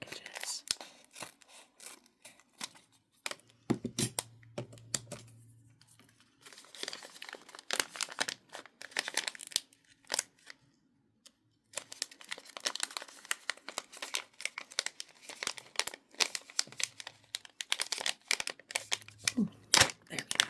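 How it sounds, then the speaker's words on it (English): Plastic packages of wax for making Christmas wax seals are cut open and crinkled up close, with soft scissor snips and bursts of rustling broken by quiet gaps. "So let's start by cutting open these packages."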